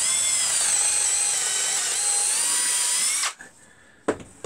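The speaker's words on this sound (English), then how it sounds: "Put a Forstner bit in first and then run a 10mm through it" Power drill fitted with a Forstner bit boring a hole into a wooden play equipment panel, a loud steady high whine for about three seconds that cuts off abruptly, then a brief clatter and a short restart.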